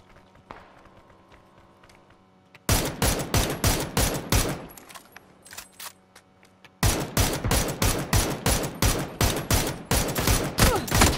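Close, loud automatic gunfire in the battle royale game PUBG: a rapid burst of evenly spaced shots, a short lull, then a second longer burst, all over quiet game ambience with almost no talk.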